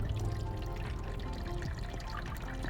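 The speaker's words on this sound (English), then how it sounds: "Okay, so we're gonna pour this over the top, and we can just do it just nice and casually." Water is poured steadily over the top of a broken-up soil sample in a clear container, a continuous close-up pouring and trickling sound with no talk.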